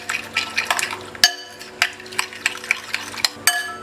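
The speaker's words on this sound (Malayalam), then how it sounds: "നമുക്കിത് നന്നായിട്ട് മിക്സ് ചെയ്തിട്ട് ഒന്ന് ഫ്രൈ" Boiled tapioca seasoned with pepper and salt stir-fried in a pan, with a spatula scraping and clacking against the metal in quick repeated strokes over a soft, steady sizzle.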